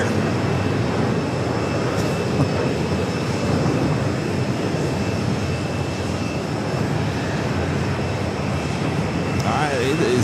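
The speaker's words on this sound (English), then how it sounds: "it is A380 Super action here at JFK" An Airbus A380 airliner at JFK airport produces a loud, steady roar of jet engines that holds throughout, with a person talking intermittently beneath it.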